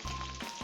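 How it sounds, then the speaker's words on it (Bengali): Rohu fish roe sizzling and frying in a pan, a steady dense crackle running close and fairly loud for under a second with no voices. "ডিমটা ভেজে নিচ্ছি।"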